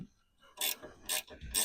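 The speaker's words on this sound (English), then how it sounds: "I just take a pair of little needle nose vice grips and get in there" Needle nose vice grips ratchet and clamp onto a sway bar part during a Crown Vic shockwave airbag install, giving three bursts of close metallic clicking and scraping with no talk.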